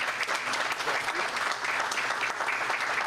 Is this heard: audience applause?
yes